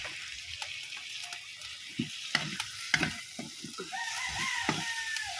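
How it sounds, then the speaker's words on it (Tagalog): Tomatoes saute in a pan with garlic and onion for sarciadong tulingan. Soft sizzling runs under repeated spoon scrapes and stirring knocks, moderately near, with a brief whistling tone near the end. "Halo-haluin. Parang halukayin mo ng todo."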